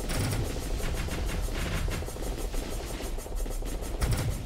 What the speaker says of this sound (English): You're shooting magic pellets.